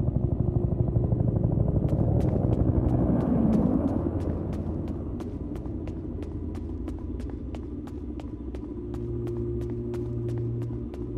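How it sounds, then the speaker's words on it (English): A video game evac helicopter's steady thudding rotor beats under a low rumble, the regular blade chop continuing throughout at moderate loudness. "Is that the evac chopper?"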